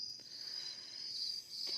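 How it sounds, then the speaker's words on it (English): Crickets chirping in a forest at night near Riverhead, New York, a steady high-pitched insect drone running continuously throughout at low volume, with no voices. "Can you play this track of Crickets Chirping for me, bro?"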